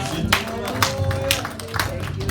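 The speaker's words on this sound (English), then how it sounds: "I want somebody to clap for Jesus as well." A church congregation claps in steady rhythmic beats about twice per second, with crowd voices and talk mixed underneath.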